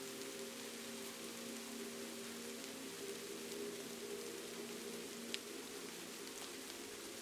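Night rain in Kyoto falls as a soft, even wash of drops with a few faint distinct ticks, quiet and continuous under a low steady hum, with no voices.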